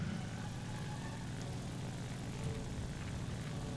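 A Helldiver aircraft engine drones steadily during a fast takeoff run in the War Thunder video game, a continuous propeller roar heard alone and at an even level throughout.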